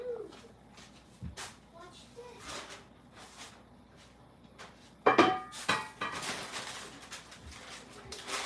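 Rice being stirred in a pot on the stove for Jamaican rice and peas, with scattered soft scrapes and taps of a spoon against the pot, then a sharper metallic clatter and rustling, heard close and fairly quiet.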